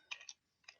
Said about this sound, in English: I was typing on my keyboard, not on my phone